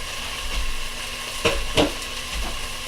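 A spoon stirs seasoning with ají amarillo in a cooking pot, giving soft scraping strokes and a couple of sharper clinks over a low, steady hiss.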